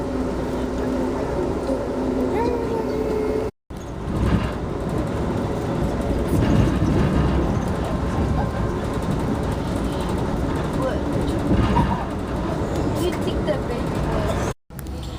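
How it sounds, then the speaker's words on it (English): A freight train rolls past a moving passenger train near Raleigh, North Carolina, producing a steady, loud rumble and clatter that runs for the whole stretch, with two brief dropouts. "looks like we're passing a freight train now"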